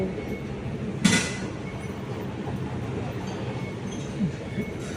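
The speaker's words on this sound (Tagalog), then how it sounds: "Dito tayo guys sa may MRT ng Ferro Road" Low, steady rumble of an MRT train at the Ferro Road station with faint creaks and a brief sharp hiss, heard fairly close with distant voices underneath.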